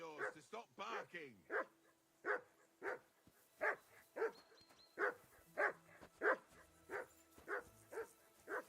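A dog barks repeatedly in a video game, steady sharp barks about every half second at moderate loudness, with speech underneath at the start.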